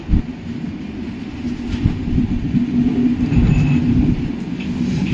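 A passenger train running on tracks on a rail journey toward Bhubaneswar New, giving a steady low rumble with a faint hum and no clear clatter, moderately loud and continuous throughout.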